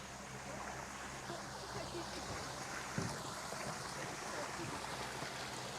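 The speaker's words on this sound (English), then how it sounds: "This is an artificial stream or creek." Water rushes through an artificial garden creek built to attract amphibians, a steady close wash and burble that runs unbroken throughout, with a faint thump midway.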